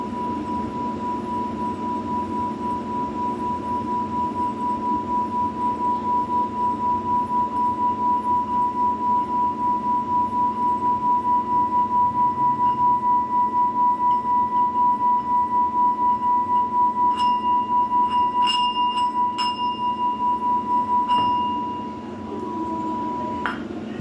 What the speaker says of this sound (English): let's hit the sound bowl. Clear this energy out one last time.